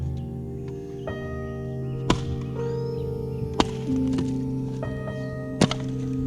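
A one-handed axe splits a hollow piece of dead wood outdoors, giving several sharp, separate thunking chops spaced about a second or two apart, close and distinct over a faint steady hum.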